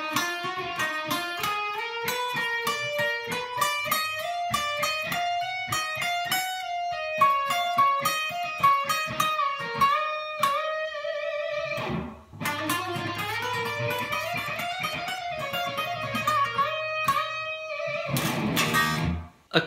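Electric guitar plays a fast repeating solo lick, a rapid stream of picked notes climbing and cycling in tight rhythm, clean and alone throughout.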